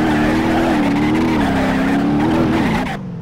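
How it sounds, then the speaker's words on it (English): A Nissan Silvia doing donuts in BeamNG.drive makes a loud, sustained tire screech over a droning engine, wavering in pitch before cutting off sharply near the end. "it looks like I'm stuck here doing donuts"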